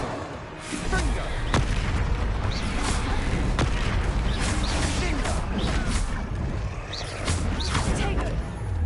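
Repeated Confringo curse blasts from the Hogwarts Legacy video game, booming fiery explosions and sharp bursts one after another over a dense, continuous battle din.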